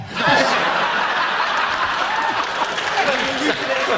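Studio audience on a British comedy panel show applauding and laughing, a steady broadband wash of clapping mixed with chuckles that holds for about four seconds at close, full volume.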